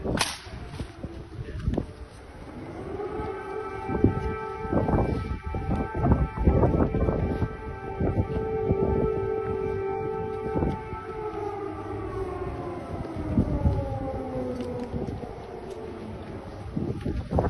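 An air raid siren in a news broadcast wails steadily for many seconds, its rising and falling tone loud and continuous over windy, crackling background noise with no speech.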